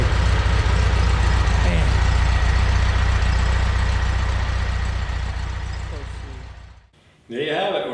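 A 1954 oval-window VW Beetle with its 36 horsepower engine idles in a steady, loud, close rumble that fades out near the end, after which someone speaks briefly.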